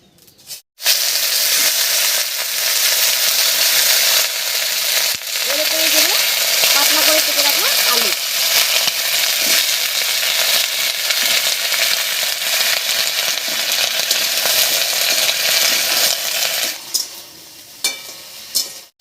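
Moringa drumsticks and potatoes hiss and sizzle steadily in a pan over a cumin and bay leaf tempering, with occasional scraping as they are stirred. The frying continues alone without pause.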